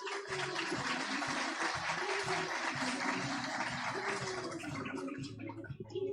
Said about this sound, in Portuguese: eu peço uma salva de palmas para eles